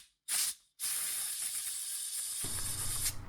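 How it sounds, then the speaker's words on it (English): Compressed air from an air hose blasts through the plastic filter of an LG washing machine: two loud hissing bursts, a short one and then a long sustained one, with a faint rattle near the end. "So I took an air hose and used compressed air to clean out the filter."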